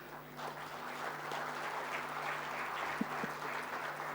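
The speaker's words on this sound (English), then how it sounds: "we would like to give a big round of applause" At an international Olympic research conference session, the audience gives a soft round of applause. The clapping is steady and heard from a distance, with an electrical hum under it and one brief knock.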